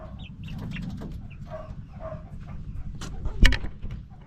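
Chickens in a brooder pen cluck and murmur softly at close range, with a few sharper calls near the end; some of the birds are sluggish and unwell.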